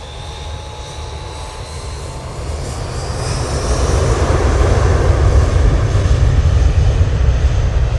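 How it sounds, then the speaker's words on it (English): A Ryanair Boeing 737-800 with split scimitar winglets arrives at Manchester Airport, its jet engines a loud, steady roar that swells over eight seconds as the aircraft draws nearer, with no talk over it. "Ryanair 737-800 with a split scimitars there, just arriving."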